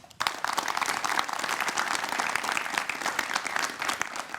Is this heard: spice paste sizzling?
no